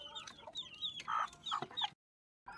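A mother hen clucks beside her newly hatched chicks in a coop, giving a close run of short, repeated clucks before a brief silence and one more call.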